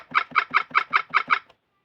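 A sparrow chirp effect from a toy piano gives seven bright, evenly spaced chirps in a steady rhythm, then stops abruptly into silence.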